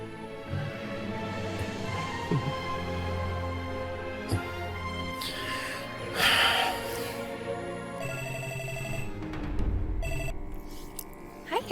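A telephone rings in a TV drama, repeating in bursts that stand out against background music and scene sounds, with a few other noises mixed in and no talk over the ringing.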